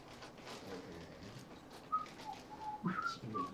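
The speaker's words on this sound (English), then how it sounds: "why is he whistling?" A person whistles a few faint short notes over a quiet background, and a soft bird-like tone appears midway.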